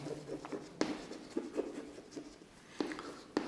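Writing on a board during a vector maths lesson, a series of soft irregular taps and scratches from the writing tool, close and fairly faint.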